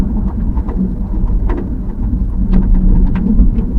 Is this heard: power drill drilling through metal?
no